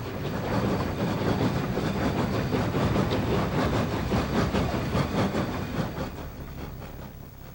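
A train climbs toward Cumbres, a lonely mountain station at the top of a hill, its wheels and cars rumbling loud and near with rhythmic clicking before easing slightly at the end.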